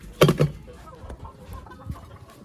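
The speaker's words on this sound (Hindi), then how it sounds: "तो अब जल्दी से जो है मुर्गी खोल लेते हैं भाई।" A hen clucks in a short burst of two or three loud, close calls near the start, then fainter scattered sounds follow in a quiet farmyard setting.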